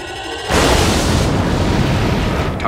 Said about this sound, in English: the Enterprise and the Excelsior take turns firing their torpedoes onto the bird of prey, and then it just explodes